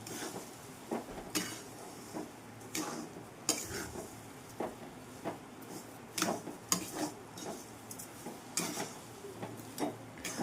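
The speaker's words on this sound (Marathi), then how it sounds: "आता मस्तपैकी त्याला फिरून घेणार आहे फ्राय करून घेणार" Mung dal halwa with ghee and sugar is stirred and fried in a pan, a spatula scraping and tapping the metal in irregular repeated strokes over a low sizzle, close and moderately quiet.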